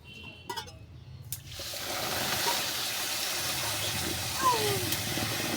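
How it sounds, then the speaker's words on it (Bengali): Water pours steadily from a bowl onto sugar in a pan to make syrup for khaja, a continuous close splashing gush that starts after a few brief knocks and carries on alone. "এই বাটির মাপে আমি জল দিয়ে দেবো।"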